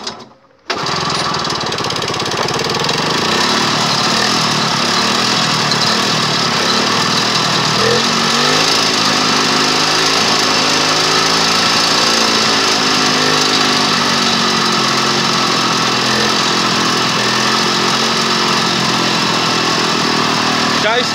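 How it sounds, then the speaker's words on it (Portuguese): A cold two-stroke engine with a Biz carburetor on a small mini buggy runs loud and close, with a buzzing, uneven idle that keeps going after a brief start-up gap. Brief talk is faintly mixed in. "Observe quantas vezes eu vou estar puxando a cordinha para ligar o motor"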